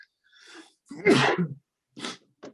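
A loud, close sneeze with a sharp burst, followed by a couple of short, quieter exhalations or sniffs.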